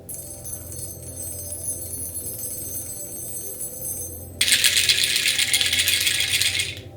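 A shaman's rattle shaken steadily and close, a dense continuous rattling that swells abruptly louder and brighter partway through, with no voices.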